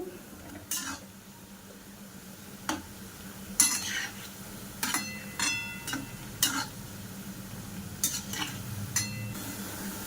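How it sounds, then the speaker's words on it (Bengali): Puffed rice is fried and stirred in a pan to make a sweet, with a faint sizzle under repeated scraping and clinking of a spoon against the pan, in short bursts spaced a few seconds apart. "পুরো একদম লাল লাল করে ভাজা করে নেব দেখো লাল লাল হয়ে গেছে একদম"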